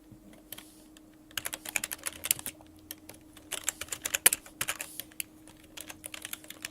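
Code being typed on a computer keyboard in a Unity scripting editor: brisk, irregular clusters of close, crisp key clicks, with short pauses between bursts over a faint steady hum.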